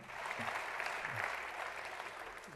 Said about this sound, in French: Les députés se lèvent pour applaudir ces premières paroles de Bertrand Pancher,